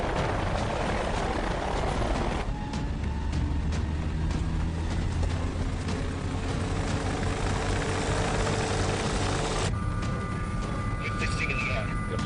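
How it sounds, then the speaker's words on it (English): A helicopter's rotor and engine drone loudly and continuously in a dramatic film scene, with brief shouted voices heard over it. "Get the chopper."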